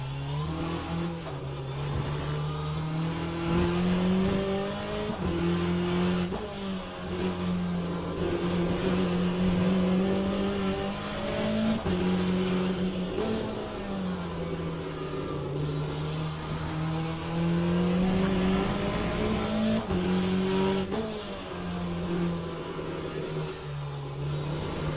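Race car in Le Mans Ultimate, a video game, with the engine rising and falling through gears as it brakes and accelerates, loud and continuous for the full stretch, no voices over it.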